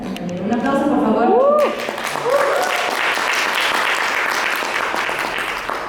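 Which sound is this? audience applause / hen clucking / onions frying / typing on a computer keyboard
audience applause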